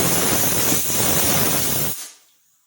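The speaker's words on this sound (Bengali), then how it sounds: "আমি কুকারের ঢাকনাটা দিয়ে আমি একটা সিটি দিয়ে নেব" Steam hisses hard from a pressure cooker whistle on high flame, a loud, steady rush for about two seconds that then cuts off and fades into near silence.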